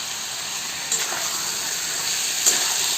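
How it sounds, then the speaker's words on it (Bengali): Desi chicken sizzling in a spiced pan, a steady bright hiss of frying with a couple of brief stirring bursts, close and continuous. "এবার আমি এটার মধ্যে চিকেনটাকে দিয়ে দিলাম"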